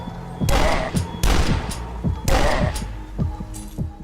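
Shotguns in the retro first-person shooter Dusk fire in a rapid run of heavy booming blasts, each shot a sharp loud burst with a thudding tail, spaced unevenly in quick succession.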